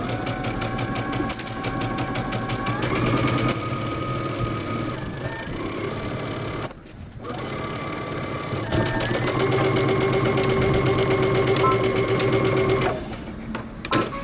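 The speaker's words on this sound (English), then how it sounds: "we're gonna go ahead and stitch our side seams" A sewing machine stitches the side seams of a shirt dress at 5/8 inch seam allowance, running loud and close for most of the stretch with a rapid steady hum, a brief pause midway, then resuming and stopping near the end.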